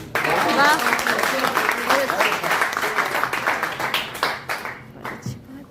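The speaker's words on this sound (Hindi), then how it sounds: "एक बार फिर से जोरदार तालियां हो जाए।" A seated audience applauds loudly after a spoken poetry recitation, with dense clapping from many hands that tapers off toward the end as voices briefly rise over it.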